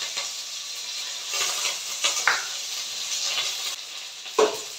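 Cumin, green chili and curry leaves sizzling in hot oil, a steady close hiss with occasional stirring scrapes and clinks of utensil against the pan, with no talk.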